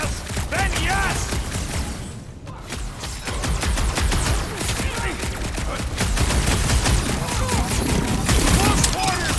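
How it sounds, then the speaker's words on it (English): Relentless gunfire from Nova Corps enemies in a Marvel's Guardians of the Galaxy firefight at a Nova Corps outpost, loud rapid energy-weapon bursts layered with impacts and crashes, nearly continuous with a short lull early on. "If they're shooting at us, then yes!"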